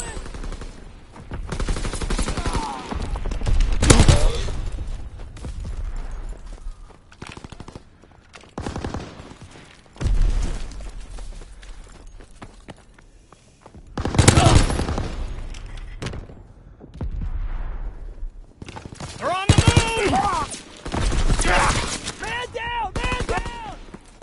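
Video game battle with bursts of gunfire and machine-gun fire plus booming explosions, loud and close in irregular clusters, with shouted voices and radio-style callouts mixed in between the volleys.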